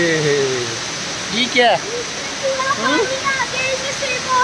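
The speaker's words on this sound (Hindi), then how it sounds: "इतना शोर क्यों है यहाँ पानी का?" Loud rushing water roars continuously inside Dubai Mall, a broad steady wash with people talking over it.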